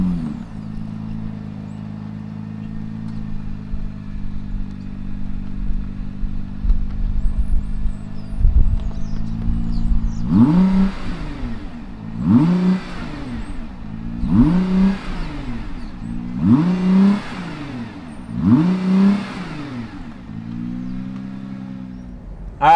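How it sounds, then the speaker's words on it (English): A 2020 Nissan GT-R 50th Anniversary Edition idles with a steady low rumble, then is revved five times in a regular rhythm, each sharp climb and fall close and loud, with no talking. "Let's fire up this GTR and see what it sounds like."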